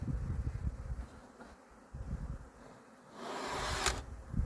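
Honey bees buzzing around an apiary hive outdoors as they fly back in, a steady close hum of many insects that swells louder toward the end, with light handling knocks.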